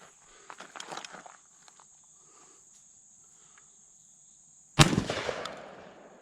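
A Landor Arms BPX902 Gen 2 bullpup shotgun fires one sudden loud blast with a ringing tail, after a few soft clicks and a steady high insect chirr in the background.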